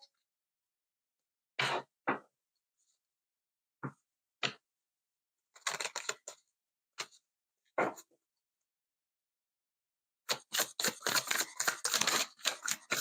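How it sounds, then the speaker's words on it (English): Tarot cards being shuffled by hand, heard as scattered short riffling bursts that build into a dense, continuous flurry of crisp card flicks near the end, close and fairly loud with no talking. "let me get the shuffling going here"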